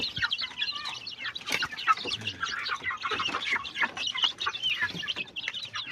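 Several backyard chickens and chicks clucking and chirping continuously nearby, a busy overlapping chatter of small birds with no talk.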